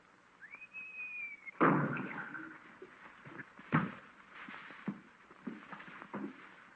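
One clear rising whistle, then a sharp thud and a few scattered knocks and scuffs.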